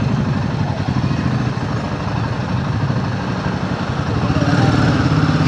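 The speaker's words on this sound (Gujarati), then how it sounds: "મારા બાઇકનો પંખો ચાલુ થઈ ગયો રેડિએટરનો." A Himalayan 450 motorcycle idles with its radiator fan running, a steady close engine rumble and whirring hum that swells slightly toward the end, with no talk over it.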